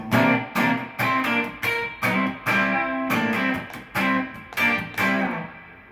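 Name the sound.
rhythm guitar sliding on the top two strings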